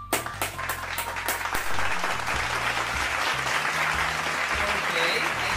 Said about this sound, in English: I can hear some claps over there